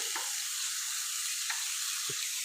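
Chopped vegetables for kebabs lightly frying in a pan, a steady close hiss of sizzling oil with a few soft utensil knocks, no voices.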